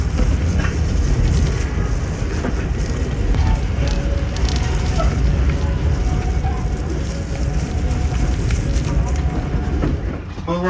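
Dense, continuous rumble and rushing noise of the Malabar passenger train to Bandung, Indonesia, heard from inside, steady and loud throughout with no clear voices.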